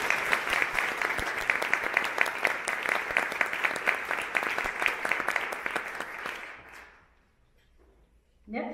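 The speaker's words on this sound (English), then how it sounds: "Join me in some applause, please." An audience claps at a college commencement awards ceremony. Dense, steady applause rings through a large hall for about six seconds, then tapers off quickly into near silence.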